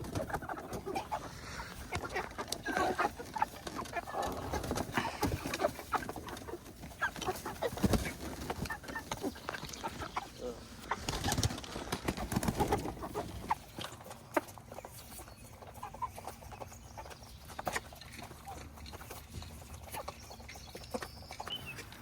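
Meat chickens cluck and murmur steadily at moderate distance on a back lawn in the morning, with scattered bird calls over a soft background hum.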